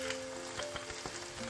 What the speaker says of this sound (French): Je mets le tout dans une casserole avec un petit peu de beurre. Je fais rissoler